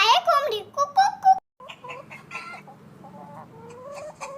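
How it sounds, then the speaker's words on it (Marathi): A hen clucks in a quick run of sharp, close calls. After a brief gap, softer, lower sounds follow. "ही आहे कोंबडी कुकू।"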